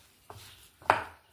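Spoon working a paneer and potato mixture with cumin powder, chili powder and salt in a bowl, two short scraping knocks, the second louder and trailing off, with no talk.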